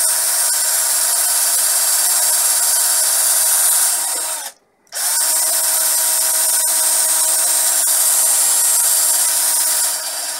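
A power drill whirs steadily at close range, a blunt 6 mm bit grinding as it bores holes in wood, with a brief pause midway before boring resumes.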